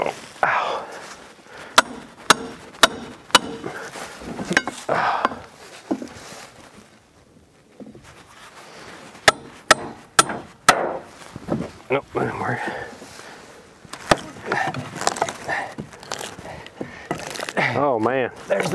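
Hammer blows on a 1968 Saab 96 being cut free from a tree where it sat abandoned for 40 years: sharp metallic strikes in two quick runs of about four, with people talking around them.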